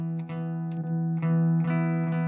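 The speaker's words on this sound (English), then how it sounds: "And then I'm going to activate the Uni-Vibe." Guitar through a Uni-Vibe effect pedal holds a sustained note with a warm, pulsing modulation, plucked re-attacks every half second or so, close and steady, no talking.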